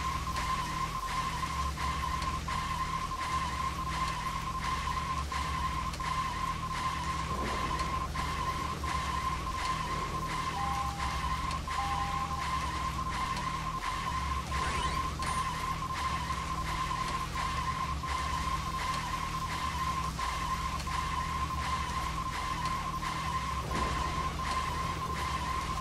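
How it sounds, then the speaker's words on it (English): Tires screech continuously in the video game Final Fantasy XV, a sustained high squeal over a steady engine drone, with a faint repeating pulse throughout and no talking. "Screeching is horrible, but there's apparently nothing I can do to fix it."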